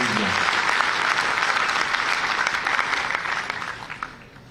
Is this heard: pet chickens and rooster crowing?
no